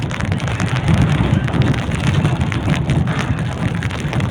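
Heavy rain pours down in a dense, constant, loud patter close by, with no break across the whole stretch.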